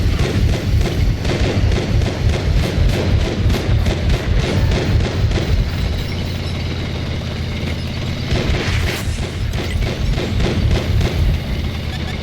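An ATGM missile strikes a tank in World of Tanks console, a heavy thud and boom cutting through a dense, continuous rumble of engine and battle noise, with a sharper burst partway through.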